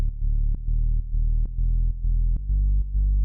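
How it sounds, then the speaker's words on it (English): A distorted synth bass, patched from an ARP 2600, plays the root notes beneath chords in a dance track, with steady sustained low notes re-struck in a regular rhythm about every half second, loud and alone. "And there's a bass underneath all of these chords."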